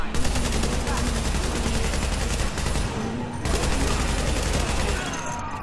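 Sustained light machine gun fire in The Division, a loud, rapid stream of shots with a brief break partway through, with voices also present.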